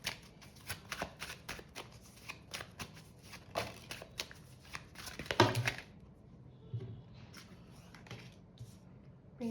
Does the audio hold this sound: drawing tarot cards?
yes